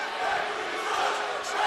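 Upset college basketball crowd at a Utah State Aggies home game reacting to a foul call, a sustained roar of disapproving voices and jeers filling the arena at steady loudness.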